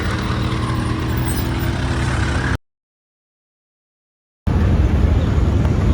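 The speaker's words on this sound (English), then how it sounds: "You've got the tuk-tuks, you've got the cars, you've got the vans, you've got the lorries, bicycles, motorcycles." Busy road traffic in Varanasi, India, with tuk-tuks, cars, vans, lorries and motorcycles, makes a dense continuous rumble of engines, cut by a stretch of total silence in the middle before the roar resumes.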